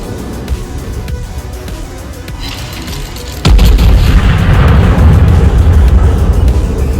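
A German tier eleven battleship, the Hannover, fires its guns in a naval battle game against a Yamato, one heavy deep boom midway followed by a sustained loud rumble over a background drone.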